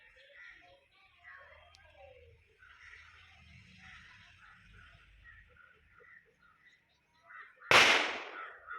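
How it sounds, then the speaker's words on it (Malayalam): Quiet background murmur and distant chatter, then a single loud, sharp Vishu festival firecracker blast near the end that rings out and decays. "വിഷുവിൻ്റെ പടക്കാടാ"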